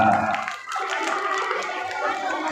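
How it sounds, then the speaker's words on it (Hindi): An audience at a school award ceremony gives a burst of clapping that fades briefly, then continues as scattered applause under a nearby speaking voice. "ताली बजाइए"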